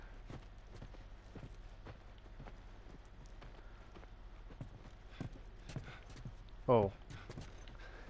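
Horse hooves clip-clopping in The Last of Us Remastered, faint, evenly spaced hoof falls at a walking pace over a low hum, with a brief voice and one louder sharp sound near the end.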